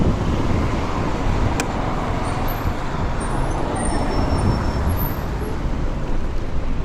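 Busy street traffic in Shantou heard from a bicycle outside a hospital, a steady dense roar of cars, buses and trucks, with a brief high squeal and distant horn-like tones, no talking.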